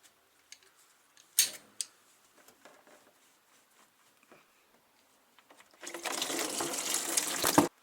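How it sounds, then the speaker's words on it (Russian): Antifreeze drains from the lower radiator hose of a Skoda Octavia A5 with a 1.6 MPI BSE engine. A few faint clicks and taps come first, then a steady, fairly loud rush of pouring liquid fills the last two seconds. "И с нижнего патрубка солью антифриз."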